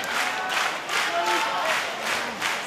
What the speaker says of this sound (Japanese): さあ大きな歓声